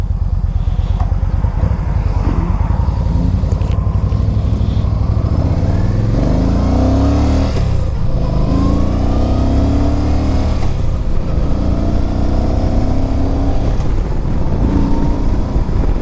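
A 2009 Yamaha 950 Tourer motorcycle with 12,800 miles, running well on a chilly day, is ridden under steady wind rush, its engine note rising and dropping repeatedly as it accelerates through the gears.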